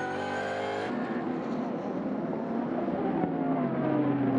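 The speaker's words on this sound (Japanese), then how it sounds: "続いて GT300 クラスもコントロールラインを抜けてスタートを切る。" Super GT race cars, GT500 and GT300 classes, start at Motegi in the 2014 season finale. Loud, high engine whines roar past, then a dense, sustained engine roar follows as the field accelerates away.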